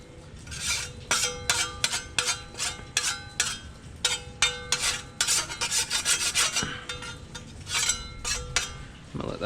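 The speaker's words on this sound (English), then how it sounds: "I'm going to clean these spatulas real quick." Metal spatulas being scraped and rubbed clean at a Blackstone griddle, a run of repeated rasping strokes with occasional clinks of steel, fairly close and steady throughout with no talking.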